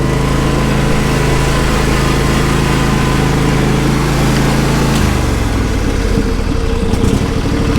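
A barn-find John Deere SST16 zero-turn mower's engine idles loudly and close, a steady droning hum that shifts its pitch partway through as the idle surges.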